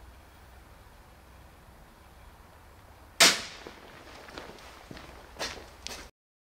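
A crossbow bolt fired into a ballistic gel block, heard as one sharp, loud impact crack followed by a few fainter thuds and rattles over a quiet background.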